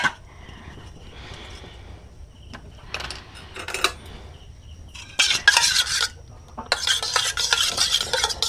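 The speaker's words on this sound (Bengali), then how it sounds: "দইটাকে কিন্তু খুব ভালোভাবে ফেটিয়ে নিতে হবে" Strained sour curd being beaten hard in a bowl makes irregular bursts of clinking, scraping whisk strokes, sparse at first, then faster and louder toward the end, with no voices.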